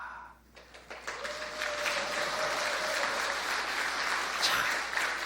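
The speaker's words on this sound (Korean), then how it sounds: "박수 받을 줄은 몰랐습니다." A church congregation applauding after a poem is read, a dense, sustained round of clapping that swells quickly and holds steady at moderate distance.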